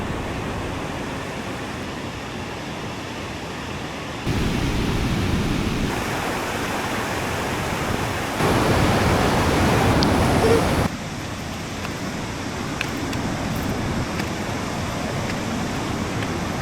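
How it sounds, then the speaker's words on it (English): A fast-flowing river swollen after heavy overnight rain gives off a continuous broadband rushing roar mixed with wind. The level steps up and down in sections, with no voices. "the river is pumping"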